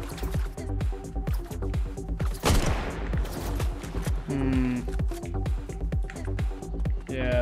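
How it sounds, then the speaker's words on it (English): Gunfire from another player in Fortnite crackles in repeated rapid bursts, loud and close, with game sound effects layered over it and a player talking underneath. "Yeah, there's someone else shooting."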